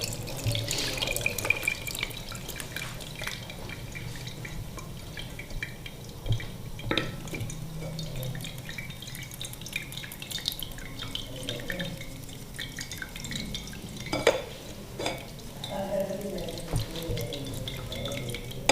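Tamarind chutney being strained through a sieve into a bowl, giving a steady wet trickle and drip with occasional clinks of metal on glass, close by and continuous.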